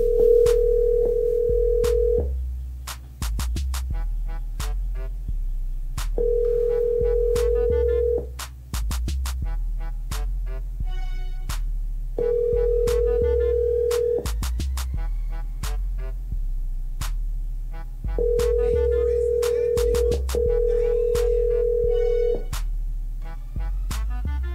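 A telephone call rings through, giving four long ring tones separated by pauses and then a fifth broken into two parts, each clear and steady over a low constant hum.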